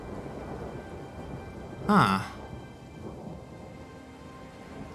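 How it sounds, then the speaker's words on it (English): Rain falls steadily in a strategy video game while a single thunderclap booms briefly, then fades back into the soft rain hiss. A voice murmurs faintly. "Hoping for a nice sunny day. Nope, of course it rains."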